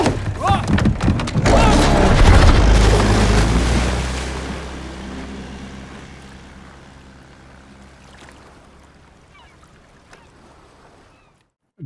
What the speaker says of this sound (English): with the boat disappearing and then it roars through the frame